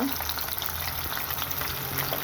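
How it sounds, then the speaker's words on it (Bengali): Pieces of hilsa fish fry briefly in hot oil, giving a steady, close sizzle and crackle that runs on its own without any voices. "এবার আমি খুব অল্প সময়ের মতো মাছগুলো ভেজে নেব"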